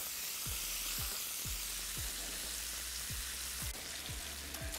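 Chicken pieces with smoked paprika browning in a hot pan, a steady close sizzle and crackle with a series of faint regular clicks running underneath, and no voices.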